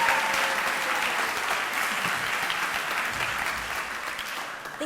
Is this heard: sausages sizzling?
no